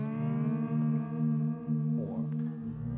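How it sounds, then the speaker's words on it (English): An electric guitar run through a delay effect gives a low, moaning, whale-like drone with wavering pitch, then a short bending swoop near the end before it cuts off, steady and unaccompanied by any voice. "or more like a sea mammal,"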